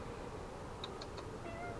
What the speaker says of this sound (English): My cat's pissing me off.